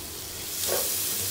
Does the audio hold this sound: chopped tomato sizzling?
yes